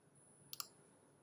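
Computer mouse double-clicking on a downloaded file, two quick sharp clicks in close succession, near and faint against a quiet background.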